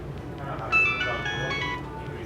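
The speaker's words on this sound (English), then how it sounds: "I forgot to turn off my cell phone." A cell phone rings briefly at close range, a short electronic melody that plays for about a second over a room's background noise.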